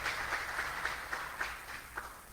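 A church congregation claps for the Lord in a steady, distant patter of applause, fairly faint and even, with no voices over it.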